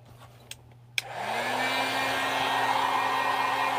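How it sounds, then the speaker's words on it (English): Heat tool blowing hot air over painted paper craft, switched on after a couple of sharp clicks and then a steady, close whooshing hum with a rising motor whine that holds to the end. "I'm just kind of drying this up, just hitting it with my heat tool"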